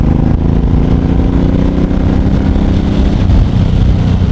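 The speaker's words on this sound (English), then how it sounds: "I'm in the 4th gear. And I'm just going to roll on the throttle here" A 2012 Suzuki M109R motorcycle engine pulls in fourth gear as the throttle rolls on, a loud, close, continuous low rumble with steady exhaust pulses.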